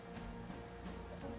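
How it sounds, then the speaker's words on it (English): Heavy rain pours down as ambient background for a tabletop role-playing game session, a dense, even patter on a surface that stays faint and distant throughout, with no voices over it. "it's starting to pour down really heavily"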